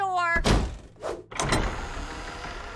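A cartoon door slams with a heavy thunk, followed by a second hard bang a moment later, both loud and close, after a brief tone and with a soft hiss lingering behind.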